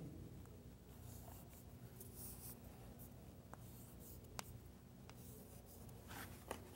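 Chalk or marker writing on a board during a math lesson, a quiet continuous scratching and rubbing with a few sharper taps, steady and fairly faint against a low room hum.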